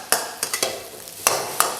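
Pad Thai noodles with chicken being scooped and stir-fried in a hot pan: a series of quick, distinct scraping and tossing strokes, fairly close and clear.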